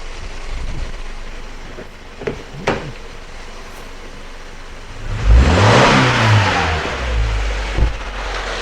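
A car engine with a MAF sensor fault idles, then revs hard at wide open throttle to a loud, rising roar that holds briefly before dropping back down; no talking.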